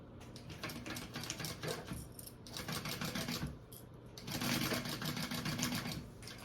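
A sewing machine bastes a piece of a waist bag in quick rattling bursts, pausing briefly between runs and ending with a louder final stretch, close up and without talk.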